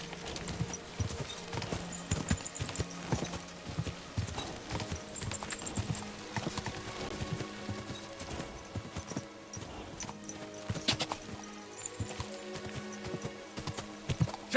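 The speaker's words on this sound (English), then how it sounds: "Your horse nearly trampled me!" Rapid horse hooves clop in an irregular, galloping rhythm in the video game Kingdom Come: Deliverance II, moderately loud and close, with scattered thumps and clatter around them and no clear speech.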